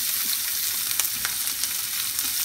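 Garlic and chili fry in a hot pan for Thai kra-phow beef, giving a steady, close sizzle with a few light clicks from stirring.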